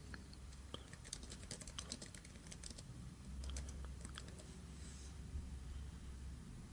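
A username, password, name, email address and site name are typed on a computer keyboard: a quiet, steady run of close key clicks in irregular bursts, alone with no talk.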